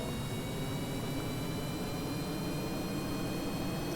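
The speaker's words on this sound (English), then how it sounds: "So I've not tested this aircraft out at all." Steady, unbroken drone of a video-game aircraft engine on a player-built rover-train aircraft, a dense hissing roar with faint high whining tones, constant in level throughout with no variation or talk.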